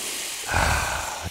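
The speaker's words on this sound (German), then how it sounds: "die Pfanne mit dem Hecht ablöschen." White wine hits a hot pan of pike and a sudden hissing sizzle swells up, close and steady, after a brief quieter moment.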